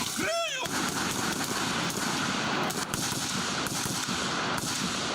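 Rapid bursts of gunfire crackle continuously at close range during military recruit weapons training, with voices calling out "Contact!" underneath the shooting.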